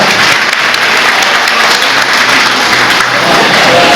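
Sustained applause from an audience at an NDRF disaster-preparedness training session fills the whole stretch, a steady dense wash of clapping at close range with no talk over it.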